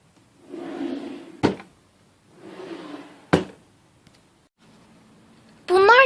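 A drawer of a plastic toy storage unit for small toy figures and accessories slides and shuts with a sharp knock, happening twice with rustling between, followed by a short burst of talk.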